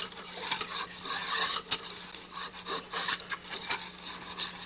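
A chisel pares wood on a handmade fishing rod, producing a run of dry scraping strokes, close and crisp, in an uneven rhythm of short rasps with brief pauses between them.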